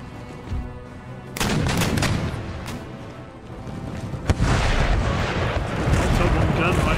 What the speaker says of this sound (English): Give them another volley.